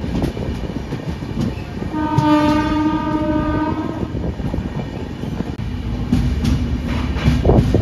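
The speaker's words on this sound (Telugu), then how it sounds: "సో ఇప్పుడైతే మన ట్రైన్ భీమవరం టౌన్కి అయితే వెళ్తుంది అనమాట." The Kakinada Town–Lingampalli Special Express 07445 runs toward Bhimavaram Town, its loud horn blaring for about two seconds over the steady rumble and clatter of the moving train.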